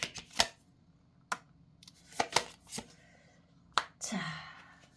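Tarot cards being handled and spread out on a table, giving several sharp close slaps and flicks with quiet gaps between them, ending in a short swishing slide.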